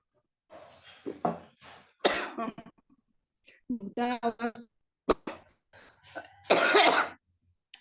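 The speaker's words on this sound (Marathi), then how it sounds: "सॉरी मला खोकला आहे ना" Several sharp coughs and throat-clearing bursts scattered among quiet chanted Sanskrit hymn verses, close to the mic, with a loud harsh cough near the end.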